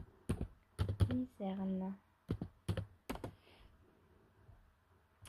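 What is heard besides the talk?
typing on a computer keyboard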